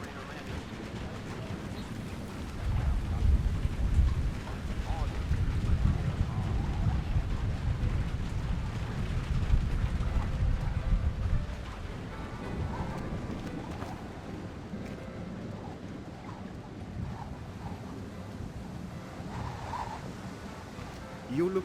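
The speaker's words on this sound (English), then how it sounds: "Thunderstorms make me nervous." Thunderstorm ambience in the stealth video game Splinter Cell Chaos Theory at a lighthouse: a continuous low rumble of wind, rain and rolling thunder, loudest early on and then settling into a steady wash.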